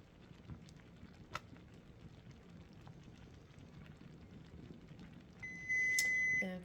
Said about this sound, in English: there's our minute timer. I'm going to shut the timer off